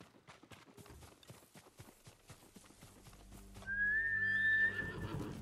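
A horse in Ghost of Tsushima gallops with steady clip-clopping hooves, then lets out a loud, bright whinny near the end over a swelling game soundscape.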